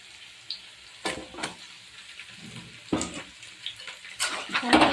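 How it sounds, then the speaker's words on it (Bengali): Marinated meat frying in a pan, a soft sizzle broken by several loud stirring scrapes and clatters that build toward the end. "এবার আমরা ম্যারিনেট করা মাংসটা দিয়ে দেবো"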